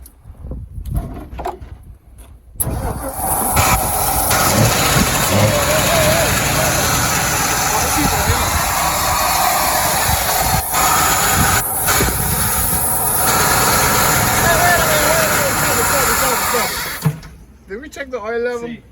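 A 1995 Ford F-350 dually with a 5.8 V8 and ZF-5 transmission cranks and catches after years of sitting, then runs with a loud, rough, steady engine roar for about fifteen seconds before cutting off, with people talking around it.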